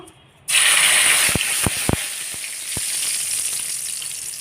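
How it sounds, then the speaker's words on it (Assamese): Two bay leaves dropped into hot mustard oil in a wok, for an Assamese chicken curry. A loud sizzle bursts on after half a second and holds steady, with sharp crackling pops scattered through it. "মিঠাতেলখিনিও গৰম হৈ গৈছে। মই ইয়াত এতিয়া তেজপাত দুখিলা দি দিছোঁ"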